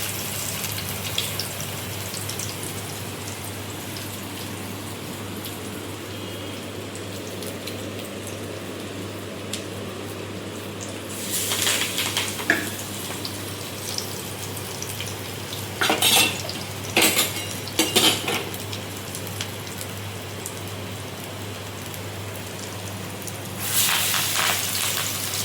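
Lentil fritters mixed with chhechhi greens sizzle steadily in hot white oil, a constant crackling hiss broken by a few brighter spatters and clinks of a utensil against the pan, with no talking.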